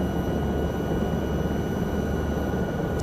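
A Lama helicopter in Microsoft Flight Simulator drones with a continuous, dense low rotor-and-engine rumble over a faint whine, loud and unbroken throughout with no talking.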